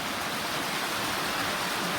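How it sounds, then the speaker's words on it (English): Heavy pouring rain falls steadily at an outdoor base, a dense, continuous broadband hiss with no break and no voices. "It just started pouring rain."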